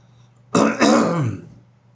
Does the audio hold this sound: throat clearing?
yes